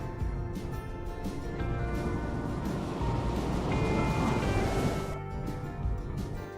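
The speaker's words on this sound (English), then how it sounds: "I put the sound of ocean waves with pirates." A pirate-themed ocean waves sound effect rolls on steadily, a broad continuous wash of surf that swells toward the middle before easing, with no voices.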